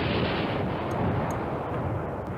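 Heavy artillery fire in the wargame Command Ops 2, a dense, loud rumbling roar of barrage that fills the whole moment and rolls on without a break.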